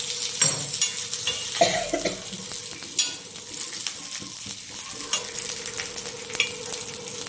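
Kathiyawadi-style methi-stuffed green chillies fry in hot oil in a pan, crackling and sizzling up close with stirring clatter and a few sharp spattering pops.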